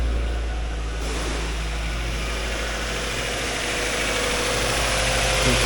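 A 2002 Mazda Miata with about 95,000 miles idles after a cold start from overnight, a steady, even engine rumble running alone and close up the whole time.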